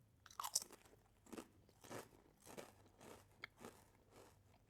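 Crunchy Tiger smoky cheese potato chips being bitten and chewed close up: a sharp first crunch followed by several spaced crackling chews, fairly faint in a quiet room.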